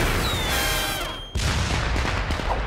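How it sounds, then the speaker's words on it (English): Loud cartoon explosion in an Inspector Gadget episode, a dense broadband blast with a falling whistle before it and a second roaring burst after a brief dip, alone with no talk. "It's scared of an explosion?"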